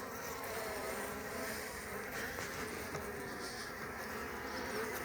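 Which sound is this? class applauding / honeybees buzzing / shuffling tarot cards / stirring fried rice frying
honeybees buzzing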